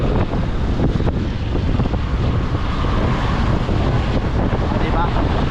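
A strong storm wind batters the microphone, producing a loud, continuous roaring rumble with gusty buffeting throughout.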